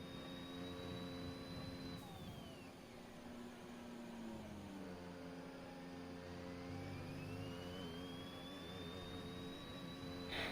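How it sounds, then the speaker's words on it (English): Racing car engines in a sim-racing league game at the Bahrain circuit, Mercedes car on a hot lap: a steady, fairly quiet engine drone with whining pitch that falls and then climbs again as the car brakes and accelerates. "These engine noises really are great."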